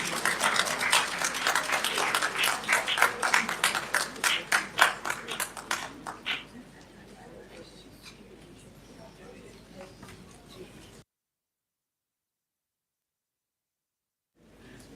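A conference audience at a national forum on women in government and media applauds, dense clapping for about six seconds that thins into scattered claps and then fades out, followed by near-silence.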